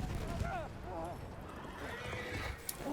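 Horses whinny and hooves clip-clop at a gallop in the World War I shooter Battlefield 1, with repeated neighing over dense battlefield noise throughout.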